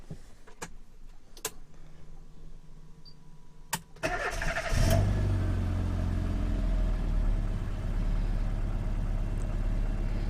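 A 1992 Rover Mini Cooper S replica with a four-speed automatic cranks and fires at about four seconds, then settles into a loud, steady idle rumble that continues unbroken, following a few sharp clicks and clunks in a quiet interior.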